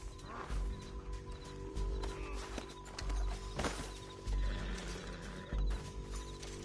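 A horse whinnies amid rhythmic hoofbeats and clattering, with periodic low thuds underneath, sound effects from the video game Red Dead Redemption 2.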